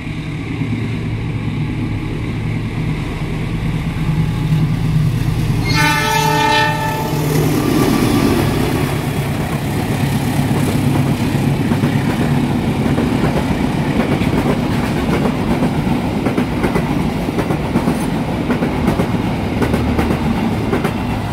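The Ranggajati passenger train on its Cirebon–Jember run speeds past, opening with a loud horn blast followed by a sustained, close rumble of wheels and carriages that continues steadily to the end.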